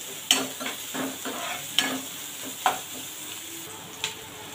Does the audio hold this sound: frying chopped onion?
yes